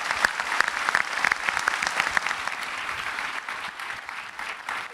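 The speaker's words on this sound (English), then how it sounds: "Let's give Sam, Hannah, and Rachel a good Singapore applause." A room of event attendees gives a sustained round of applause for Sam, Hannah and Rachel, with dense, even clapping holding steady throughout at a fairly loud level.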